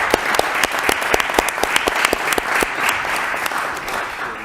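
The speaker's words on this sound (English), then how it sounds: "let's give him a yes. round of applause." An audience applauds at a Lowell city council meeting: close, loud clapping with sharp individual claps standing out from the steady patter throughout.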